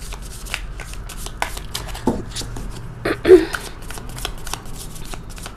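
A deck of tarot cards is shuffled close by, with a rapid series of papery riffles and flicks and one brief louder burst partway through.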